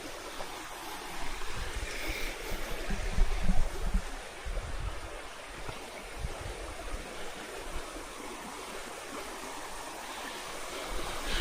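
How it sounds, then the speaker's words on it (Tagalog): Steady rushing river water flows continuously in a park, a broad even wash of sound with slight surges, no voices. "Nakaka-relax yung daloy ng tubig."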